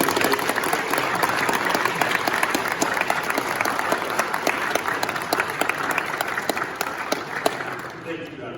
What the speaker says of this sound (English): Graduates, please give them a big round of applause for helping you.